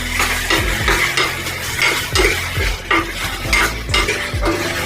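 Onion-tomato gravy being stirred into rajma in a pot: a spoon repeatedly scrapes and clinks against the metal pot in a steady rhythm over a low sizzling bubble, close and fairly loud.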